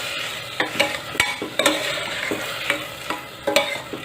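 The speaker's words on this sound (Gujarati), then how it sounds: "તેની અંદર પલાળેલી મગની દાળ ઉમેરી દેશું। તેને પણ આપણે 1 મિનિટ માટે સાતળીશું તેલમાં।" Soaked moong dal sautés with tomatoes in oil over a medium flame, a continuous soft sizzle broken by rhythmic spoon scrapes and taps against the pan, close and clear.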